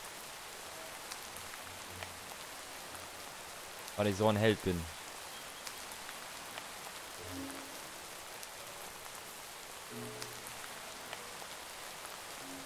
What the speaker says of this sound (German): Im prasselnden Regen.